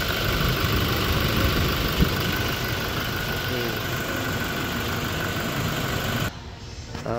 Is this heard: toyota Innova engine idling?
yes